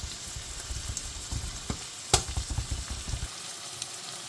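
An egg sizzles and crackles in a pan while frying for fried rice, a steady close hiss with stirring scrapes and pops in an irregular rhythm that thins out toward the end.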